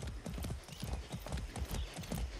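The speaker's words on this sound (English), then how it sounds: "I haven't ridden a horse since basic training." Hooves of a ridden horse in the video game Far Cry 6 clip-clop in a quick, steady rhythm, close and continuous throughout.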